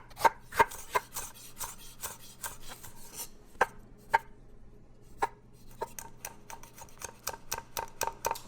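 A knife chops cilantro, onions, green chilies and tomatoes on a board in steady, close, rhythmic strokes, pausing briefly before a faster run of cuts.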